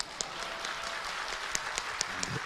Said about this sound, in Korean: 박수가 나오네요 갑자기